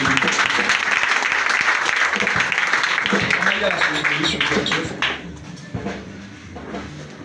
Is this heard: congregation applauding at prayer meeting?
yes